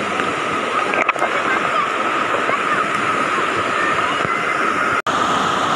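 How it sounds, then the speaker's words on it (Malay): A three-tier waterfall on a hiking trail roars steadily and loudly throughout, a dense broadband rush of falling water with no other sounds standing out. "Dengarlah bunyi air terjun."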